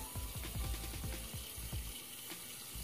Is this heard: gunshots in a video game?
no